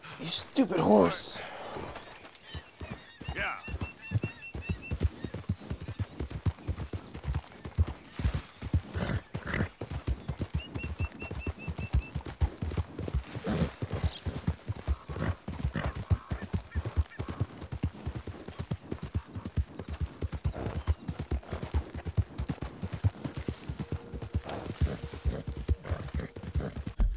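A horse's hooves clop in a rapid, steady galloping rhythm throughout a Red Dead Redemption 2 gameplay scene, with a brief neigh near the start and someone speaking over the ride.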